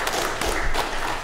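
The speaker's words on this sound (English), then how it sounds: "I think we clap now, maybe?" Audience applause at a live horror screenplay panel during a book festival, a brief burst of dense, fairly close clapping that fills the moment without voices.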